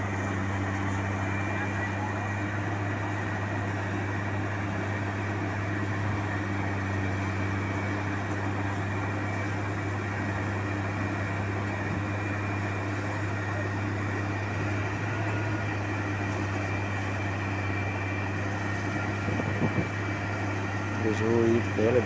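A road saw cuts into asphalt during the BR-135 highway duplication works in Curvelo, Minas Gerais, giving a steady, droning engine hum with a constant low tone that runs unbroken at moderate distance.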